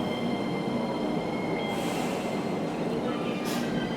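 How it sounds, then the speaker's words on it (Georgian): A metro train rolls into a station in Sofia, Bulgaria, with a steady rumble and faint squealing wheels, close and continuous, with thin metallic whines rising over the noise. "წავედით, ახლა მოვიდა მატარებელი."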